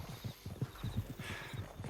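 Horse hooves clip-clop in a steady rhythmic gait in Red Dead Redemption 2, close and fairly quiet, with a brief whinny-like tone near the middle.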